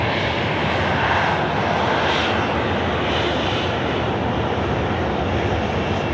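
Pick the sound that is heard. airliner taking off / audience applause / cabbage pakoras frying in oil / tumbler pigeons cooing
airliner taking off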